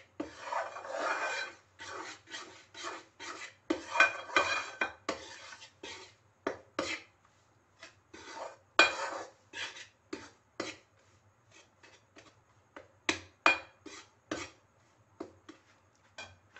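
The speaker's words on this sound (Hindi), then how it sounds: "मजीद 2 मिनट मुझे हो गए हैं बेसन को भूनते हुए" Gram flour and milk powder being roasted in a pan are stirred and scraped in a steady run of dry, rasping strokes, loud and close, with brief pauses between them and no talking.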